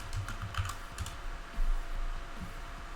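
A password is typed on a computer keyboard in a quick run of close, light key clicks, with a slightly heavier thump partway through and fainter taps trailing after.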